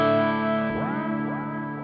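Guitar through a Line 6 Helix tape delay, a sustained distorted chord with chorus-like shimmer, where a splice effect makes repeats sweep and warble in pitch at regular intervals, loud and steady without talk.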